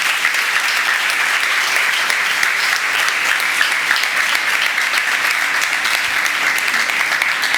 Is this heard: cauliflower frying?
no